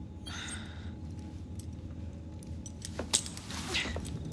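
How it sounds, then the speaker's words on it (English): Keys jangle as they are handed over in Assassin's Creed Syndicate, a short metallic rattle up close that comes early and returns with a sharper jingle toward the end, over a quiet background. "Now hand over your keys."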